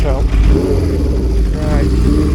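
A Honda CB750 cafe racer motorcycle pulls away close by as the clutch is let out. The engine rumble swells and then eases twice over a couple of seconds, with someone talking over it.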